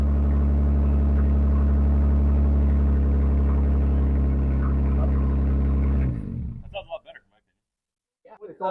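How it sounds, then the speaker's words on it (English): A loud, deep Jeep JK engine with a Flowmaster cat-back exhaust idles steadily with a throaty exhaust rumble, then cuts off abruptly, followed by brief faint sounds and silence. "here it is after the install, listening to the new exhaust by Flowmaster"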